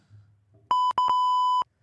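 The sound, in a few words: censor buzzer beep over a word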